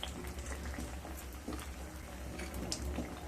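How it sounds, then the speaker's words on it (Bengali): Lentil dumplings (bori) frying in hot oil for a drumstick and catla fish curry, giving a soft, continuous sizzle and bubbling hiss, faint and steady throughout. "বড়িগুলোকে ভালো মতো ভেজে নেব"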